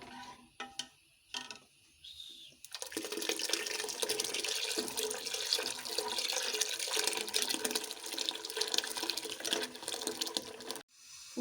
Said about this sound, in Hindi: अब इसमें हम लस्सी ऐड करेंगे।